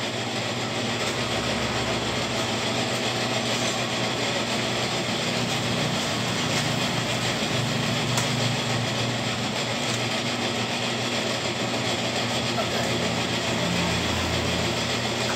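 A brake rotor refacing machine works a disc from a Toyota Fortuner, giving a steady, loud mechanical whir and grinding drone with a faint ratcheting texture that runs unbroken throughout, with no talking.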